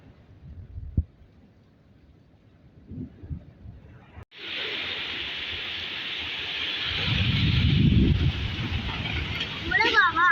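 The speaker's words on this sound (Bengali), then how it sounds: "বৃষ্টির কি পরিমাণ শব্দ হচ্ছে আর বাতাসের শব্দ শুনছেন" Heavy rain falls steadily after a Kalbaishakhi storm, with gusting wind adding a loud, continuous broadband roar that swells partway through, and a few faint sounds appear before it starts.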